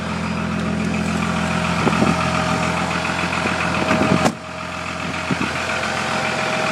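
A Cummins diesel engine idles roughly after a cold start in extreme cold, a steady loud drone with uneven knocking pulses and a sudden drop in level partway through.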